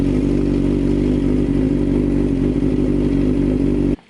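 A 2004 Suzuki GSX-R 750 motorcycle engine runs steadily at idle during coolant bleeding, a loud, constant mechanical drone with light clatter that cuts off abruptly near the end.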